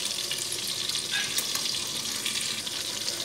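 Blended onion and tomato juice cooking in a pan for beef curry, a steady bright sizzle and bubbling hiss, close and continuous without talk.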